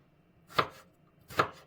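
Two crisp knife strokes cut through potatoes on a cutting board while they are diced into cubes. The chops are close and distinct, spaced under a second apart against near silence.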